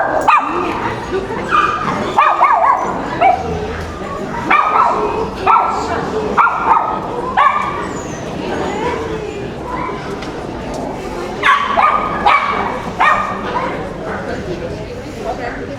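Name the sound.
puppies barking and yipping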